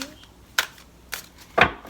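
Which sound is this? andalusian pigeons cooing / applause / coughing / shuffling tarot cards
shuffling tarot cards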